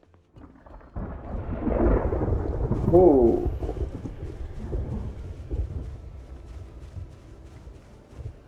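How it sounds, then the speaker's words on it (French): A thunderstorm during a snowstorm in the video game Project Zomboid: a long, swelling rumble of thunder builds and fades over several seconds, with a short exclamation from a voice near the peak. "Orage avec une tempête de neige."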